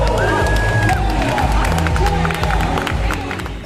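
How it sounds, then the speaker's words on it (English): A stadium crowd packed into the stands cheers and claps for competitors, a dense, continuous roar with scattered whoops that fades slightly at the end. "with the stands full of people and cheering for the competitors like they were gladiators in the arena"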